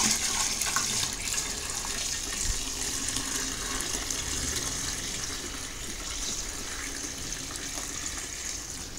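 Tap water gushes steadily into a home brew beer fermenter holding star san sanitiser, a continuous rushing fill with no talk over it.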